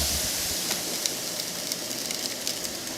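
Liquid nitrogen poured from a pitcher boils off into steam with a steady, loud hiss and rush. Faint crackles and pops sound through it, and no one speaks.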